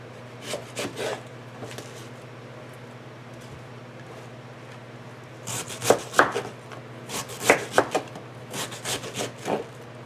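A knife chops a head of cabbage on a cutting board, with a few light cuts early on followed by a quicker run of sharp, close chops over a steady low hum.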